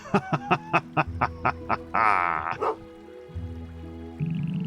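A dog in the video game Potion Permit gives a quick run of about eight sharp, evenly spaced barks up close, then a longer whine, over soft game music.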